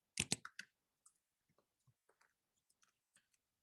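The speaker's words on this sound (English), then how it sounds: "Good, I hear some typing." Sparse keyboard typing in a quiet room: a quick burst of clicks, then scattered single taps spaced irregularly, faint and close, with no talk.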